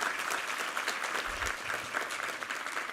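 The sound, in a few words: congregation applause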